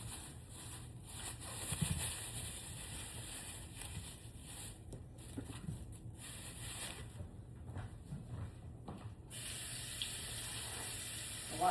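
Kitchen tap water running into a sink while a peach is washed over strawberries, a steady faint hiss with soft splashing and rubbing interruptions, and brief quiet voices nearby.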